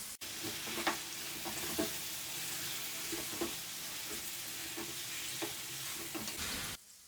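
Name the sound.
chicken frying on high heat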